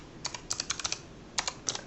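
Quick bursts of computer keyboard keystrokes while a short business page bio is typed, irregular clusters of light clicks close up and fairly quiet, with no talking.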